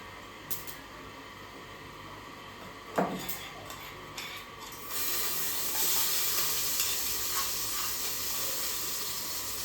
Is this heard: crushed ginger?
yes